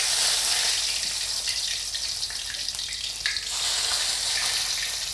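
Hot oil sizzles and crackles steadily as dried chillies fry, a close, continuous hiss with small pops throughout.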